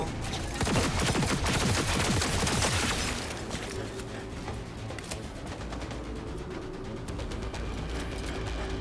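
Rapid automatic gunfire in Cyberpunk 2077 crackles as a dense fusillade for about three seconds. It then thins into scattered shots and clatter over a steady background, with nobody speaking.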